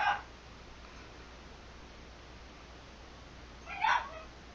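A pet dog gives two short yips or barks, one at the very start and another near the end, fairly faint and somewhat distant against quiet room noise, with a long lull between them.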